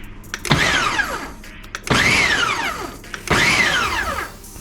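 An electric mixer whirs through a bowl of flour and baking powder in three separate bursts. Each burst rises and falls in pitch and is close and fairly loud, with short pauses between them.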